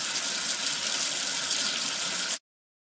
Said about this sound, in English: Wash away the soap with water.